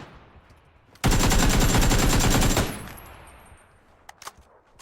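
Rapid automatic gunfire in the battle-royale game PUBG, a loud sustained burst of about one and a half seconds followed by fading echoes and a few faint clicks, with no voices.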